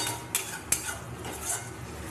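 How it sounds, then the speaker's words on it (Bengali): Curry masala fries in oil in a pan while a metal spoon stirs and scrapes it, giving a faint, steady sizzle broken by a few sharp clinks against the pan. "কষানো প্রায় আমার হয়ে এসছে, তেলও চারিদিক দিয়ে ছেড়ে দিয়েছে।"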